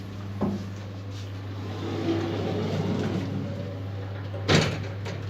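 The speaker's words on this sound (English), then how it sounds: "So, manual operated doors." Manual doors of a 1970s Otis hydraulic service lift being worked, a sharp clack near the start and a louder bang near the end, over a steady low hum from the lift.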